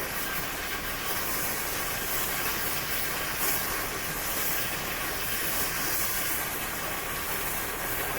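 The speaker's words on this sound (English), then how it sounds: "I should turn the car off in the background." A car engine idles in the background on an acreage, giving a steady, even hissing drone that holds at a moderate level throughout with no talking.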